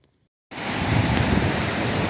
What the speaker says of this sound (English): Wallomanums Falls in the Chicopee River.